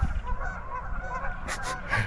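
A noisy chorus of geese honking and ducks calling on a lake, many birds overlapping continuously, with a few louder nearby honks toward the end.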